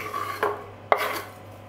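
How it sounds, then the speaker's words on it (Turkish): A knife chopping green peppers on a cutting board gives two sharp, close chops about half a second apart over a low steady hum, with no talking. "yeşil biberleri de aynı şekilde doğruyorum"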